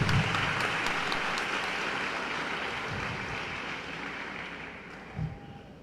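An audience at a graduation ceremony in a hall applauds a pastor, a sustained wash of many hands clapping that gradually fades over several seconds, with no talk.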